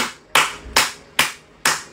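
Four sharp, loud hand claps at an even, unhurried pace, each crisp crack standing alone with a short decay, used to call pigeons.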